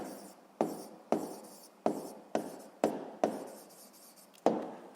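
Pen writing an answer on paper, a quiet close series of seven distinct strokes, each a sharp scratchy onset fading out, spaced roughly half a second apart with no talking.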